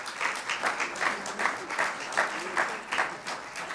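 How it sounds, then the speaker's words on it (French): A church congregation claps in a fairly even rhythmic pulse, moderately distant and soft, with voices mixed in beneath the clapping throughout. "Vous pouvez applaudir pour vous-même"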